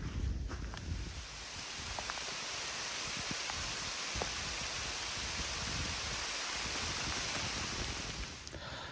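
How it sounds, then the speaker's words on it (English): Steady soft rain patters and hisses all around in Oklahoma's Winding Stair Mountains, fairly faint and continuous, with occasional small drips and rustles. "It has been raining quite a while now"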